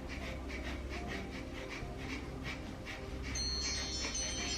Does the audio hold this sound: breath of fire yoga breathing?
yes